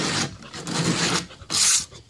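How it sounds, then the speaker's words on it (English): Cheap dollar-store sandpaper rubbed by hand across a kayak surface: three close rasping strokes, each a short hissing scrape with brief pauses between. "I'm just using cheap dollar store sandpaper."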